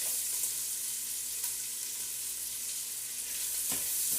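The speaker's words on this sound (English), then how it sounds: "this bacon just is semi-crispy right now. And I'm going to throw my onions in." Steady broadband sizzle of onions frying in a hot pan with semi-crispy bacon, an even hiss throughout with a faint clatter near the end, no talking.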